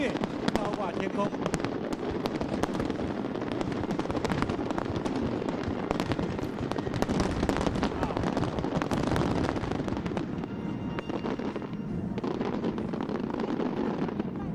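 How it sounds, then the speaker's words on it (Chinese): A National Day fireworks show in Chiayi, Taiwan, firing some 26,000 shells, gives a continuous dense wall of crackling and booming bursts from start to finish, with a voice talking over the noise. "绚烂的烟火真的是非常美丽"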